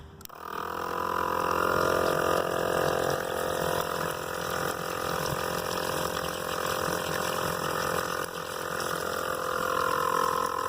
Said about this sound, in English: Pump's still going on outside